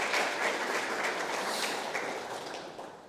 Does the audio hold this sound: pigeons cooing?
no